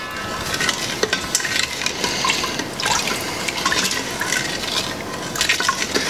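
A cup of water poured and stirred into apple crisp ingredients in an Instant Pot: wet sloshing and splashing with soft scraping and clinks in the pot, close and steady with brief pauses.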